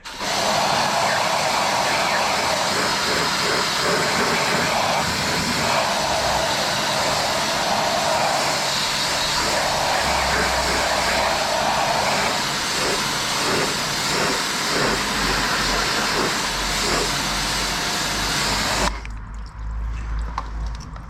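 A pressure washer spraying a 1994 VW MK3 GTI, a loud steady hissing blast held for about twenty seconds before cutting off.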